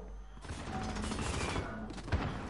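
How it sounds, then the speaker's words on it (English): A burst of gunfire in Call of Duty Modern Warfare, a dense rattle of shots lasting a couple of seconds over the game's background noise, with one sharper report near the end. "he shot me before he even came around the corner"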